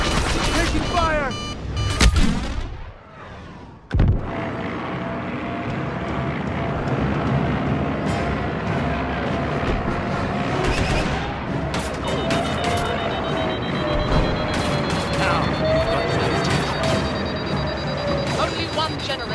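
Blaster fire and starfighter engines in a Star Wars Battlefront II space assault, with dense bursts of shots over a constant roaring engine drone, a sharp blast near the start and a rising whine later on.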